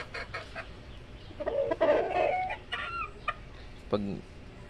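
Gamecock rooster clucking in short, uneven calls at close range, with one louder burst in the middle and a sharp final cluck.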